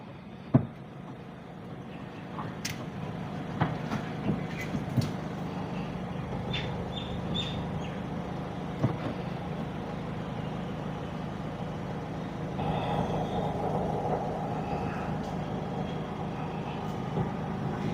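Ford EcoSport Titanium 2017 starting, with a sharp click at the start, then a steady engine hum running at idle throughout, with a few small knocks and rattles over it.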